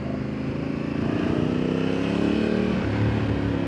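A new 2025 Honda Africa Twin adventure motorcycle engine running steadily nearby, a continuous low rumbling drone that rises slightly in pitch and loudness partway through, with no talk over it.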